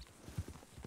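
Horse hooves clop softly in a roleplay video game set on a ranch, several uneven faint strikes close together with no voice over them.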